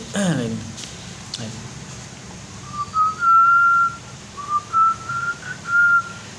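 A man whistles in imitation of someone whistling while brushing their teeth, a few short rising tones and then sustained notes in a loose melody, loud and close, following his own speech.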